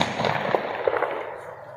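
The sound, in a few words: gunfire during police shootout with robbers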